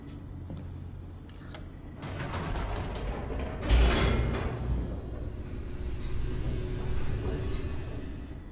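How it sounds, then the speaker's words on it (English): An elevator descends in The Stanley Parable video game, a steady low mechanical rumble with gear-like creaks and clanks that swells around the middle and holds on throughout, with no voices. "The elevator raced downward, plummeting towards an unknown fate."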